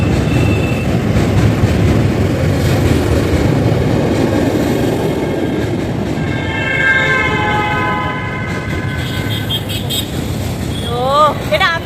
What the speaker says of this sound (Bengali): জিও ট্রেনটাও দেখে নিলাম।